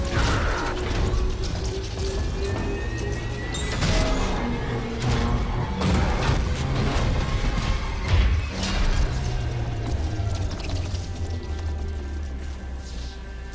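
Spaceship crash-landing into a hull in Dead Space Remake: a continuous loud roar of grinding metal, rumbling and repeated heavy impacts and crashes lasting throughout, with no break in the noise.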